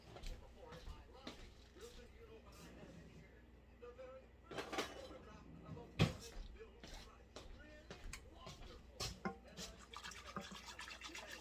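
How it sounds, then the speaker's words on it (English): A whisk stirs flour into a turkey pot pie sauce in a pot, with soft, irregular scraping and clicking strokes, light liquid sloshing and occasional sharper taps against the pot rim, while a person talks. "let me get my whisk"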